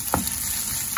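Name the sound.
frying tofu in a pan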